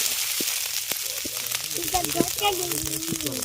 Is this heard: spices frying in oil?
yes